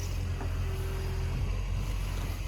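A construction excavator runs nearby with a steady loud low engine drone and a faint whine, continuous and unbroken throughout.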